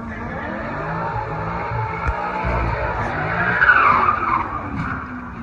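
A Mercedes-AMG car doing a burnout, its tires squealing continuously over a revving engine, loud and close, with the screech swelling toward the end before easing off.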